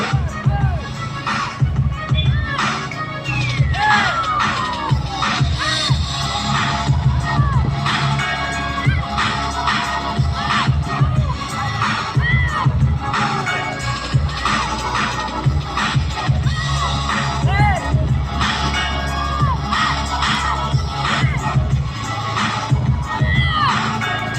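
Crowd of students at a school sports day karate demonstration, shouting and cheering continuously alongside a loudspeaker, with loud, dense voices and whoops throughout.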